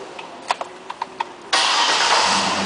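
A pearl white 2010 Cadillac Escalade starts up: a few sharp clicks from the ignition, then the engine catches abruptly and settles into a steady, loud idle.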